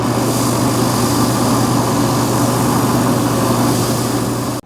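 A wood lathe spins a turned wooden vessel during sanding, making a loud, steady, close droning hum with a low motor tone that runs unbroken and then cuts off abruptly at the end.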